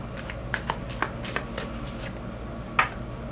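Angel cards being shuffled by hand ahead of a tarot-style reading, a soft papery riffle with a handful of crisp flicks and one sharper snap near the end, close and quiet over a faint steady room hum.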